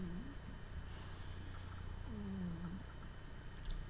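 A house cat purrs close by as a soft, steady low rumble with a faint rhythmic pulse. It stays quiet and continuous, with no talk over it.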